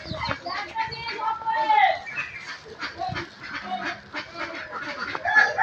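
Hens cluck and chatter around a farmyard in a steady, busy stream, with bursts of calls rising over background noise while people talk nearby throughout.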